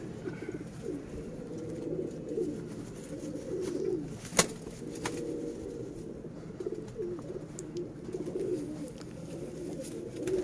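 Pigeons coo steadily in a loft where black-faced and quail-type young flying pigeons are kept, a dense continuous murmur of overlapping calls with one sharp click partway through.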